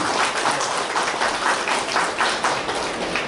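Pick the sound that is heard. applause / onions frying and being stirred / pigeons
applause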